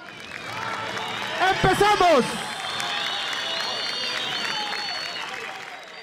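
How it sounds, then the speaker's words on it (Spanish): Crowd applause at a Súper Liga Stars Fútbol 7 match presentation greets finalist team Embajador Crema, steady and moderately loud, with an announcer's voice shouting briefly over it near the middle. "Un fuerte aplauso, por favor, para Embajador Crema."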